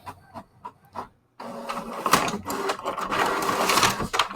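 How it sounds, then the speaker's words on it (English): A home printer feeds and prints a page with a steady mechanical whir and rattle lasting several seconds, loud and close, after a few soft clicks and taps. "There goes my printer."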